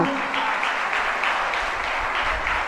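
Audience applause at a Jain religious discourse, dense steady clapping from a crowd holding an even level throughout, with no voices over it.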